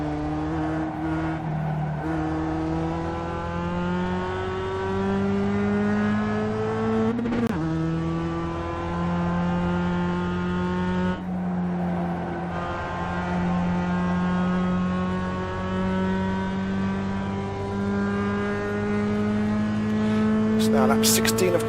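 Race car engines in iRacing at Summit Point, a sustained droning whine that climbs and drops with each gear change and corner, loud and close, while a voice talks over it.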